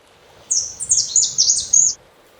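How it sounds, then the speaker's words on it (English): A female saffron yellow finch sings a run of high, bright chirping notes in quick succession for about a second and a half, close and clear over quiet background noise. "The saffron yellow finch female sings to attract the males."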